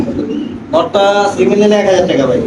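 Pigeons at a market stall selling Beauty and Lakha breeds give a short burst of throaty cooing up close, with people talking over them.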